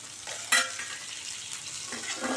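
Green turkey berries (sundakkai) sauté in oil, making a continuous close sizzle, with one sharp utensil clink near the start and light scraping strokes after it.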